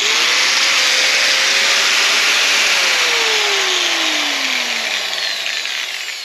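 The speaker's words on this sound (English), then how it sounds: "when you're cutting this, you got to make sure, because obviously it's rubber" An angle grinder cutting through a rubber fuel line for an 87 K5 Blazer fuel system, a loud, steady high whine that sags in pitch as the disc loads, with no talking.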